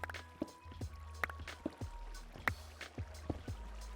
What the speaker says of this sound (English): Some flowing water. That's an interesting sound.